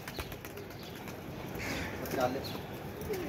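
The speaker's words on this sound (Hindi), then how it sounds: "अच्छे कबूतर हैं।" Pigeons in a loft coo softly and intermittently, faint and somewhat distant, while people talk nearby over a steady background hiss.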